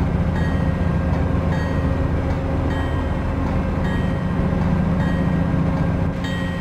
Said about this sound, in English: Carolinian Train 80 departing Charlotte, North Carolina, bound for Raleigh at 10:05.